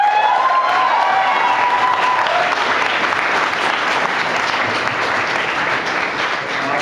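A university guild presidential debate audience breaks into loud, dense applause with scattered shouts, a continuous wash of clapping held at full strength for nearly seven seconds before easing slightly at the end.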